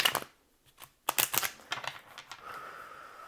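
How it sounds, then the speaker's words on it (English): Tarot cards are shuffled in quick, close riffling bursts: a crisp flurry, a pause, then a longer run of papery snaps tapering off, with no voice heard. "All right, last shuffle."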